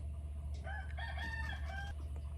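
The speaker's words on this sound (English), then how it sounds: "I've been keeping the poultry in the chicken pen" Chickens cluck and a rooster crows over a steady low hum inside a farm poultry pen, the crow rising and stretching across the middle of the moment.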